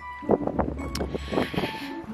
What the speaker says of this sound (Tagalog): Mahangin sa labas eh.